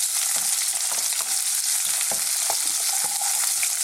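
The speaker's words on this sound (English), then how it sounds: "on the very high temperature, let's throw this around in our wok" Onions and garlic pork stir-frying in a wok over a very high flame, a constant loud sizzle broken by clattering tosses and stirring strokes at an uneven rhythm, with no talk.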